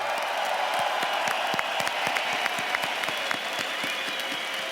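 An arena crowd at BLAST Pro Series Copenhagen, a large audience cheering and clapping loudly and continuously, with scattered sharp claps over a broad roar.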